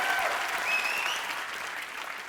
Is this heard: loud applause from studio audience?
yes